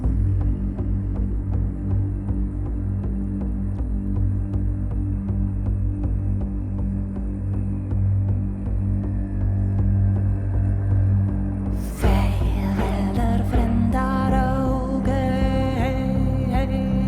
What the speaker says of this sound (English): it almost sounds like a didgeridoo, but it could even just be a human being making a low hum noise